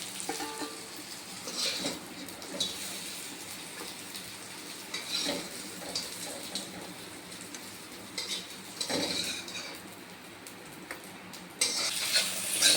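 Onions fry in oil rendered from khoira river fish, a steady sizzle broken by repeated scrapes and clinks of a spatula stirring against the pan, close and moderately loud, with no voices.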